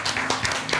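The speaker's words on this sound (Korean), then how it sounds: "우리 위로와 격려의 박수 한번 부탁드리겠습니다" A church congregation bursts into brief, dense applause at a Sunday worship service, a quick patter of many hands clapping close by.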